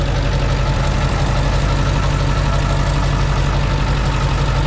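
A rented Mule utility vehicle runs a PTO-driven winch drum spooling out cable. Its engine gives a loud, steady, close drone with no pauses.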